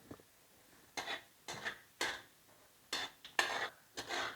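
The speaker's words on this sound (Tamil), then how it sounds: "இப்போ எடுத்து வச்சுருக்க நான் ஜீரகத்தை போட்டுறேன்" A utensil scrapes and stirs cumin seeds frying in ghee in a pan for jeera rice, about eight distinct strokes against the metal over a faint, quiet background with no talking.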